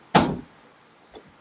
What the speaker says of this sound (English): Shut the door all the way, please.